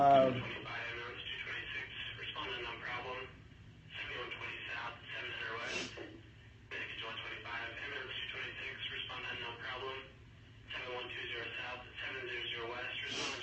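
Fire station dispatch radio crackling with clipped, narrowband voice transmissions in several bursts separated by short gaps, faint and tinny.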